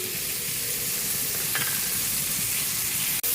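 Ground pork mince sautéing with onion and tomato in a hot pan, a steady broadband sizzle that never lets up, with a faint clink partway through and a brief tap near the end.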